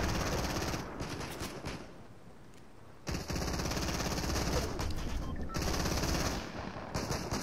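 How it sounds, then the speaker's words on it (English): Machine-gun and rifle fire in Fortnite, rapid bursts of shots at moderate distance, with a brief lull before heavy firing resumes in sustained volleys. "I can hear gunfire here"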